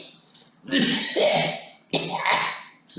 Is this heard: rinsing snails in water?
no